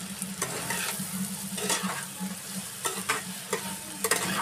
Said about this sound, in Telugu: లైట్గా బ్రౌన్ కలర్లో వచ్చేంత వరకు ఫ్రై చేసుకోవాలి.